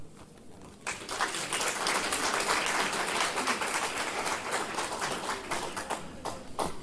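Audience applause at a village book launch event for a municipal monograph in Slovakia, a dense sustained clapping that swells after a quiet start and carries on steadily for several seconds in a hall.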